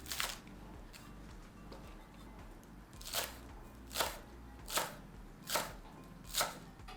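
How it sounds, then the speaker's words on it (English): A knife slices through green onion tops on a cutting board, giving a run of crisp, evenly spaced chops close by with no talking. "Next, slice up the green part of green onions."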